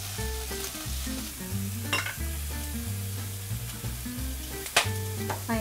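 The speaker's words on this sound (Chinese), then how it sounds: "它煎的吼，它的虾是会香很多" Shrimp pan-fries without oil in a hot pan with a splash of rice wine, sizzling steadily and close, with faint scraping from stirring.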